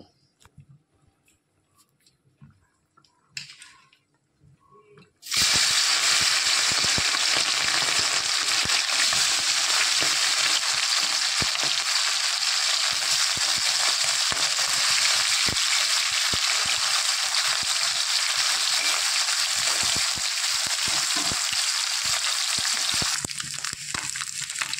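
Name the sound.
tengra fish frying in hot oil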